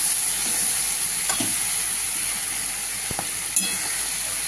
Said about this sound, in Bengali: এবার আমি নেড়ে চেড়ে ঢাকা দিয়ে দেবো।